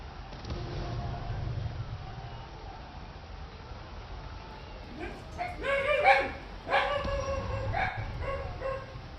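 Dogs make a few yips and barks, moderately loud over a steady background hum, clustered in a short burst toward the middle.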